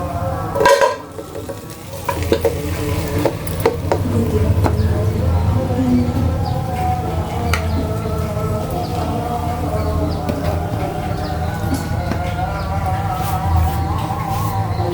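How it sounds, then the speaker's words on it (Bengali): Goat trotters and tripe cooking in a pan, a steady close sizzle with scraping stirs and occasional clinks of a utensil against the pot, continuing without pause throughout. "আমি এখন খাসির পা ও ভুড়ি ঢেলে দেবো"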